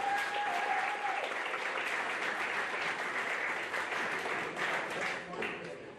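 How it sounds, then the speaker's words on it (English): A high school spring sports banquet audience applauds loudly and steadily throughout, with a brief whistled tone near the start and the clapping easing slightly at the close. "So how about a nice round of applause for those 2 ladies?"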